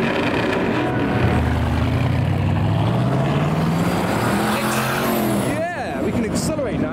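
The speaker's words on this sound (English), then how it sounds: "We've got another Superformance Cobra in yellow." Yellow Superformance Cobra drives past and accelerates, a loud rising engine note sweeping through over steady crowd noise, with people talking nearby.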